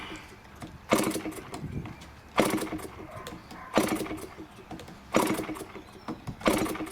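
An RC model aircraft engine is cranked repeatedly for a start, giving about five loud rhythmic bursts of whirring and sputtering roughly every second and a half, close by with no voices over it.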